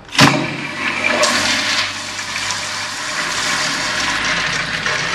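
An older American Standard Cadet pressure-assist toilet flushes nearby, a sharp start followed by a steady rushing swirl of water that continues to the end.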